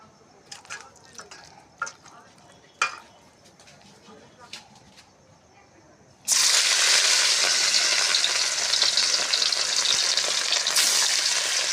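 Fish frying in hot oil in a kadai bursts into a loud, steady sizzle partway through and continues without letup, after quieter clinks and faint bird coos in the first half.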